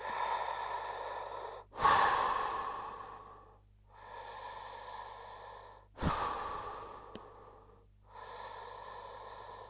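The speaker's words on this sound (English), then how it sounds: "I take 5 very deep breaths, slow breaths like this" Five long, slow, deep breaths taken in a quiet room, each a broad airy inhale and exhale lasting a couple of seconds, close to the microphone with brief pauses between them and no talking.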